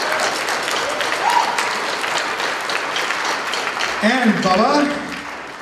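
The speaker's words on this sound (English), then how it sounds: "I just want a big round of applause for Greg Dwornick right now" A crowd applauds at the 2011 Garrick Centre battle event, a dense, continuous wash of clapping that swells slightly toward the end, with a voice speaking over it in the last seconds.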